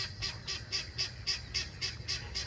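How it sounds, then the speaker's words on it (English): A flock of ducks honking and quacking in a steady repeating rhythm, calls coming roughly every quarter second over low background rumble. "Oh, look at all the ducks right here"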